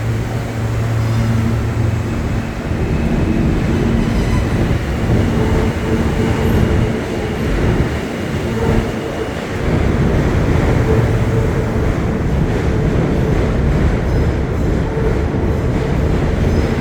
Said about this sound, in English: we can see the F train from up here